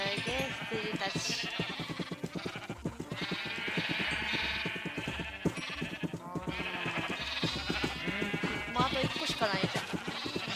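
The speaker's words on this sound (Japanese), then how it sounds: "すーげー羊たち。" A flock of Minecraft sheep bleat constantly in overlapping, wavering cries, loud and close, while someone talks over them throughout.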